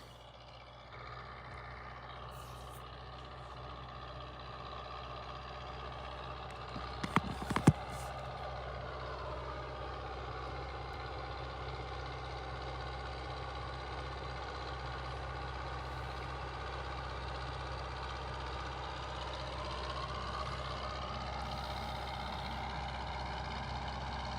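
A tractor engine drones steadily at a low rumble for a long stretch while spraying fungicide on a sunflower field, with a brief clatter of knocks partway through, constant and fairly near.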